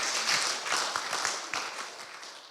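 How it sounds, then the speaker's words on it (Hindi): A church congregation at a Sunday Hindi service claps together, a soft, dense patter of many hands from across the room that gradually fades. "हम सब ताली बजाकर परमेश्वर को धन्यवाद दें।"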